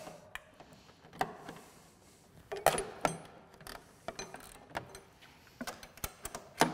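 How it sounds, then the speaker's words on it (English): A ratchet and socket tighten a shock mount bolt on a Polaris Fox front shock installation, giving sharp, irregular metallic clicks and clacks up close, with quiet pauses between strokes. "we'll take our ratchet and socket."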